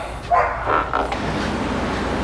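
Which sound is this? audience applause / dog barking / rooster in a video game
dog barking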